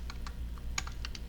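Quick, light keystrokes on a computer keyboard, a handful of soft clicks in an uneven rhythm, close and fairly quiet over a low background hum.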